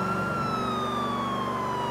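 A police car siren in GTA IV wails steadily in a slow descending sweep, loud and continuous, with engine rumble beneath and no talk.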